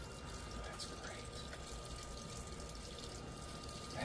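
Water draining from a mini condensate pump unit, a faint, steady trickling and splashing stream that runs continuously throughout without a break.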